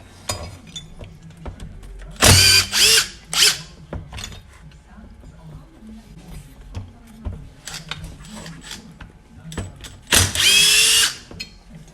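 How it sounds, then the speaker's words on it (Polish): Loud bursts of a power tool whir in short runs, with metallic clinks in between, as the cylinder is removed from an older Husqvarna chainsaw on a workbench. "No i teraz zdejmujemy cylinderek."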